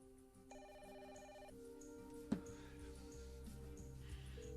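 A telephone rings in a quiet interior, a repeated electronic trill in short bursts with a brief clunk midway, heard faintly and alone without any voices.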